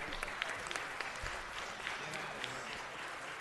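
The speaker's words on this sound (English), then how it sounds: "Let's give them a round of applause." Audience applause at a city council meeting in City Hall, welcoming student ambassadors from Pali Charter High; moderately quiet, steady clapping across the room with a murmur of voices beneath.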